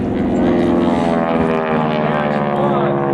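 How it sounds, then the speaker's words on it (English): A World War II-era propeller airplane at an airshow drones loudly overhead with a steady, harmonic engine roar that holds throughout, while a voice talks beneath it. "Coming in from the left, keep your eyes on the airplane."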